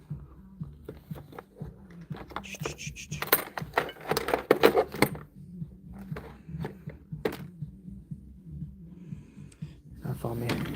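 Car keys jangle in bursts close by, with metallic clinks amid rustling, footsteps and breathing in a quiet indoor space.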